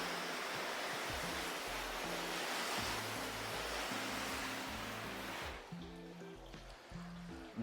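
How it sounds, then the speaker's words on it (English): A spray nozzle hisses water onto a ceramic-coated car for a steady broadband rush, then the spray drops to a softer, thinner stream near the end. "Trying it with different settings on the spray nozzle."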